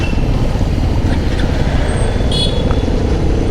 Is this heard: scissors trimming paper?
no